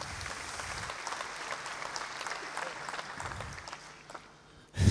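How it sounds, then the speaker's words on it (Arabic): An audience at a formal speaking event in Bahrain breaks into warm, sustained clapping from many hands. The applause sounds fairly close and fades near the end before a brief louder burst. "تصفيق حار من اليمين"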